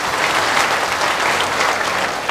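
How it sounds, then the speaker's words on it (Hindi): Loud, steady applause from a crowd at a BJP Parivartan Yatra political rally in Madhupur, a continuous dense wash of clapping with no break. "एकदम जोरदार तरीके से ताली देते।"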